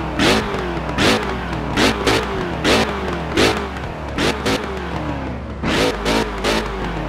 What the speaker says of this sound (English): Let me give you a little revs.